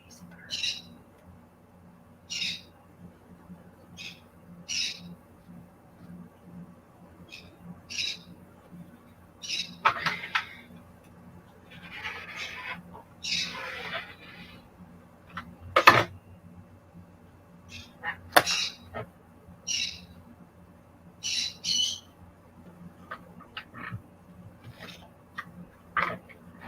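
A pet bird squawks and chirps in short, sharp, repeated calls scattered throughout, close by, with a steady low hum underneath and a few louder knocks while sewing fabric is cut nearby.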